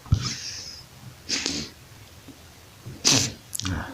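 A person with a cold and allergies sneezes several times in quick succession, close and fairly loud, with sniffly breaths between.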